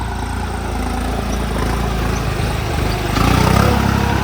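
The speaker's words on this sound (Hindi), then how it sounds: "तो भाई साहब ये आ गए हमारे ट्रैक्टर दोनों के दोनों।" New Holland and Novo tractors roll in with their engines running, a loud, steady diesel rumble close by that swells slightly toward the end, with no voices over it.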